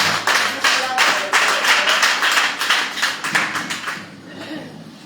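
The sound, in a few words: congregation clapping and applauding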